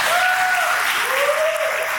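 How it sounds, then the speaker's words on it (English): Sustained applause fills a hall of fame induction ceremony, a dense steady clatter of many hands with no voices, while a faint whistling tone rises and falls above it. "So a round of applause for Ms."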